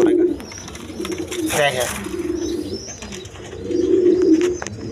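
Colored local and foreign pigeons coo in soft, repeated throaty bursts, close by, while someone talks over them.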